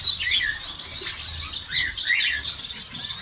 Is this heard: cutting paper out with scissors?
no